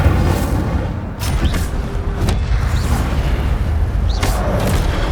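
An Incendio fire spell bursts in Hogwarts Legacy with a loud, booming whoosh, followed by several sharp crackling blasts over a dense roar.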